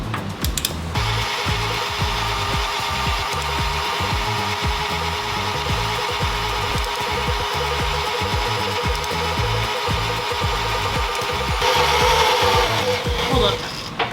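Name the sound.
electric drill running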